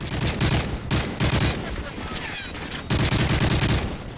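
Rapid gunfire from a Call of Duty Modern Warfare 3 search-and-destroy match on the Arkaden map, dense bursts of shots repeating loudly across the clip with brief gaps between volleys.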